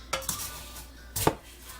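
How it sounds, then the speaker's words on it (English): Snow being scooped into a bowl for snow ice cream, heard as two soft scraping scoops early on and a louder scrape-and-clunk about a second later, close by with no talking. "we need to put 3 cups in here. Snow in the bowl."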